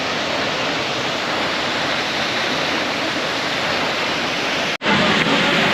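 A waterfall in Macedonia, Greece roars in a steady, dense rush of falling water, loud and close from a cave beside it, with a brief dropout before the roar resumes.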